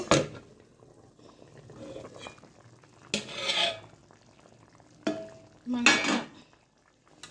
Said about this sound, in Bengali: এখন আমি ঢাকনাটাকে খুলে দিব